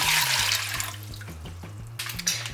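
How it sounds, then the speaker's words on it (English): Water pours from a container into an Instant Pot, a steady close splashing stream that gurgles and bubbles as the pot fills. "So to my Instant Pot, I'm going to add 4 cups of water."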